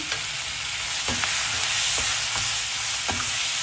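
Salted onions and tomatoes sauté in a pan for tomato chutney, a constant bright sizzle broken by a few evenly spaced stirring scrapes, heard up close without speech.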